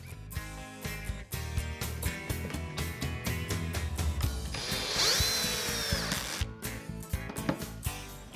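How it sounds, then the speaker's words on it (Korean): An electric drill bores screw holes in wood in a workshop, with repeated bursts of motor whine and grinding, one longer and louder run near the middle, then short stops and restarts, close by and with no voices. "나사못 구멍을 뚫기 위해 가지고 전동 드릴을 사용을 하고요"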